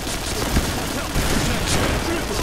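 Dense, continuous gunfire from the Point Blank video game forms a loud, unbroken wash of rapid shots.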